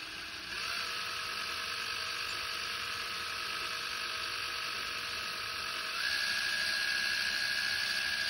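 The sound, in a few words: drill drilling holes for Toyota GR86 rear license plate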